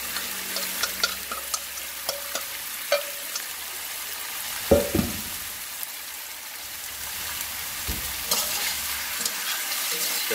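Marinated duck meat being stir-fried in a pan for a mock dog-meat dish, a steady sizzle broken by scraping stirs and a few louder clanks around the middle, close and with no voices.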